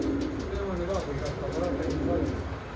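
A pair of Shah-eyed pigeons coo in soft, repeated low bursts, close by, over steady background noise and a murmur of voices.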